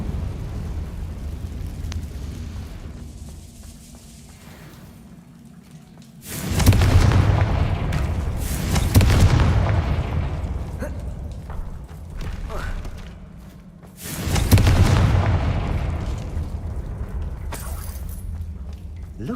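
Two heavy, booming fire-spell explosions from a wizard video game, each a loud rumbling blast several seconds apart, with a low ambient drone and a voice speaking between them.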